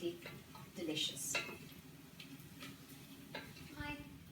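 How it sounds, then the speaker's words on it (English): Garlic frying in olive oil in a pan while cooking milho frito, a faint steady sizzle with soft stirring scrapes and light clinks of utensils against the pan. "The smell of the garlic frying in the olive oil is absolutely delicious."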